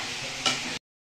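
Curry sautéing in a pan, a steady close sizzle with a brief louder stir partway through before the sound cuts off abruptly.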